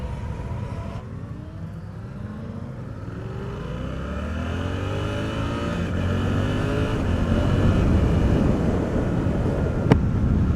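A Suzuki GSX-8R motorcycle pulls away under acceleration, its engine note rising through quick-shifted gear changes amid heavy wind rush that grows louder as speed builds.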